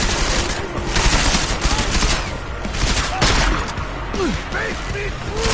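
Dense, sustained gunfire in Deus Ex: Mankind Divided, a continuous loud fusillade of overlapping shots with a few voices shouting underneath.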